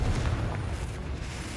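Confringo fire-blast spell explosion in Hogwarts Legacy, a heavy booming blast at the start that rolls into a sustained low rumble, close and loud.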